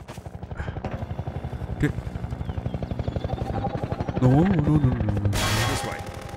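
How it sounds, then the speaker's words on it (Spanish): A helicopter in the Half-Life 2: Episode Two video game thrums with a steady, rapid rotor chop close by, a brief rising whine cutting in near the end while a voice speaks briefly over it. "El helicóptero pegado a los talones, ¿podrías ayudarnos a derribarlo?"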